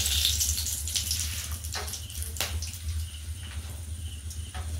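Dried red chillies and a bay leaf crackle in hot oil for a dhaba-style egg tadka dal, a steady hiss with brief sharper bursts, close and continuous with no voices.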